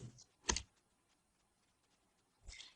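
Faint, sparse clicks of a computer keyboard being typed on: two or three isolated key taps separated by quiet pauses, close but soft.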